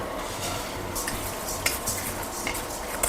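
Mung beans tipped into a pan with caramelized onion and tomato and stirred, giving a soft, steady sizzle with scraping and a few sharp clinks of a utensil against the pan, close and moderately quiet, no talk.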